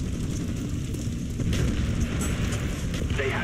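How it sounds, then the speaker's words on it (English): Mortar strike explosions in a Call of Duty match, a steady dense low rumble of booming blasts layered with game sounds, loud and continuous throughout. "Mortar coordinates received firing for effect."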